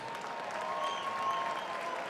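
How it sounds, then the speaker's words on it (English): An audience at a professional boxing match claps for the two cruiserweight fighters after ten rounds, a fairly faint, steady spatter of applause throughout with no talking. "how about a round of applause for these two guys?"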